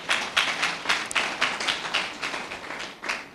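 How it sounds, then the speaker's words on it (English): Graduation-ceremony audience applauding for about three seconds, a steady wash of many hands clapping with rhythmic peaks, moderately loud and with no talking over it. "Please give yourselves a round of applause."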